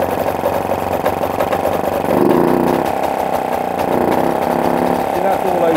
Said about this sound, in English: if I rev it up